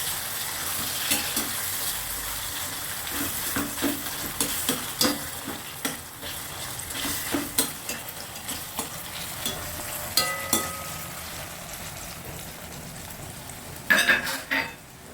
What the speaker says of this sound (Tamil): இப்போ வெங்காயம் நல்லா வதங்கிடுது இப்போ தக்காளி சேர்க்குறேன் தக்காளி நல்லா வதங்கு